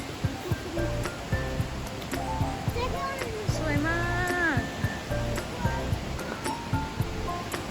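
Pistyll Rhaeadr, the tallest waterfall in Wales, makes a steady broadband rush throughout, while people talk and exclaim close by over the roar.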